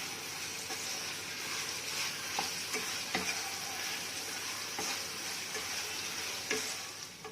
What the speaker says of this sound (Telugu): ఇప్పుడు కొంచెం వేసి మళ్ళీ ఒకసారి ఇట్లా తిప్పేసుకొని మూత పెట్టేసుకుందాం.